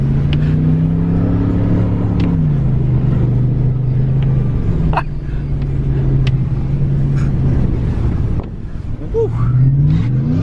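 A Mercedes S-Class engine revs hard through a rally lap, its loud, rising and falling drone with gear shifts and brief dips as the car works back and forth on track, a voice whooping and talking over it.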